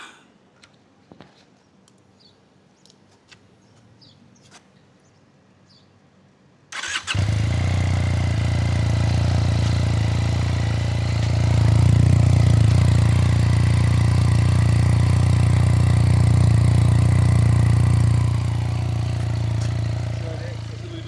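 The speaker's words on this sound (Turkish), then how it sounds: "Bir cold start dinleteyim" Sharmax RST422 Ultra motorcycle starts from cold after a few seconds of quiet rustling, catching abruptly and settling into a loud, close, steady idle with a deep low rumble that rises briefly midway.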